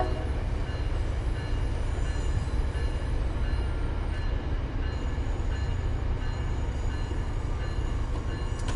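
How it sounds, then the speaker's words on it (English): An inbound commuter train bound for Boston rolls past in the Train Sim 5 video game, a loud, continuous low rumble of wheels and cars with no talking. "we have an inbound train going"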